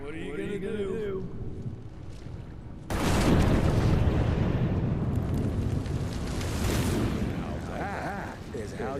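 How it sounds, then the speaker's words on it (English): A loud explosion in the action game Evil West erupts suddenly and gives way to a sustained roaring blast with crackling debris, which then tails off into rumble. Game voices speak before and after it. "That is how you shape an explosion"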